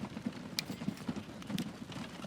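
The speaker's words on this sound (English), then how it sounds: "take this line that's already here with this horse and carriage going around it" A horse and carriage clip-clops along in the Transport Fever 2 video game, a soft, steady patter of hoofbeats heard faintly at a moderate distance with a few sharper clicks.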